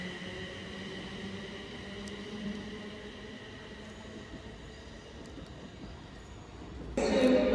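A passenger train pulls out of Stoke-on-Trent station towards Crewe, a steady rolling rumble of wheels and carriages close by that swells louder at the very end.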